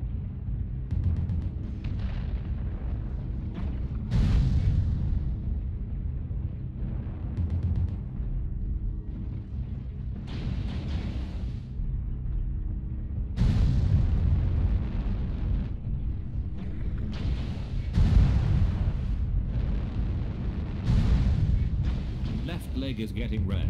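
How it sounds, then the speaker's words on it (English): Heavy booming blasts from a reactor meltdown in a mech combat video game, a string of loud explosions at irregular intervals with rumbling tails, mixed with game voice callouts. "Reactor meltdown detected."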